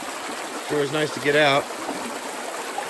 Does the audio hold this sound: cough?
no